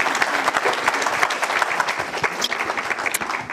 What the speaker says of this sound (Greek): ένα πολύ ζεστό χειροκρότημα για τον Μανώλη τον Καρανάνο